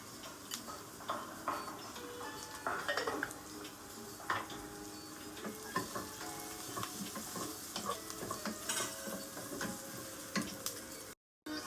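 Whole spices such as cardamom, cloves and bay leaf sizzle in hot oil for chicken, a steady crackling fry with scattered pops and light ticks of stirring, close and continuous without talk.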